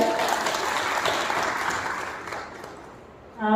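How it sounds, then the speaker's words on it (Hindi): An indoor audience claps in sustained applause that fades over a few seconds, before a voice begins at the very end. "तो मैं पहले से कहूँगी एक बार उनके लिए ताली बजाई जाए।"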